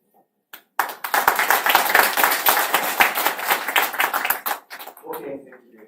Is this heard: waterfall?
no